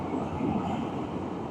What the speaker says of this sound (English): A couple of cattle trains, which you don't see too often anymore